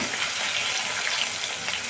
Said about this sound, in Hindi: मछली फ्राई करना